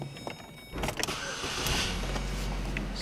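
Power windows on a Chevrolet Malibu run with a steady electric motor whine, beginning after a few clicks and continuing loudly to the end.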